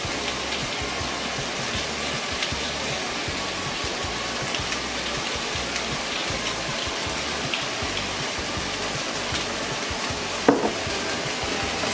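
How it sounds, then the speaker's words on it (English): Onions seasoned with salt and black pepper, stirred in a pot for red onion marmalade: a dense, even sizzle hisses continuously for the whole stretch, with one brief sharp scrape of the spoon near the end. "Stir that in."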